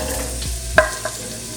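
Onion, celery and fennel fry in a couple tablespoons of olive oil for a cauliflower fennel soup: a brief, quiet sizzle with a sharp stirring knock near the middle and a softer one after.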